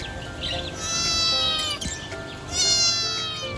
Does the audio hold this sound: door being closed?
no